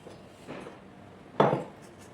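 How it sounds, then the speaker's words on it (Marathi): Cold boiled potatoes, chilled in the fridge, are mashed in a bowl, with two soft scraping knocks of utensil against dish, the second louder and close. "आता आपण हा बटाटा आहे तो आपण स्मॅश करून घेऊ।"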